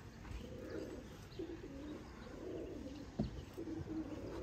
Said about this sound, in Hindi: यह कबूतर है दोस्तों